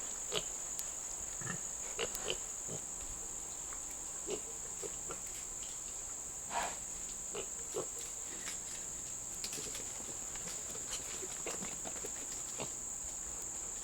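Young piglets on a farm, healthy and starting on pellet feed, making faint scattered grunts and shuffles over a constant high insect whine outdoors.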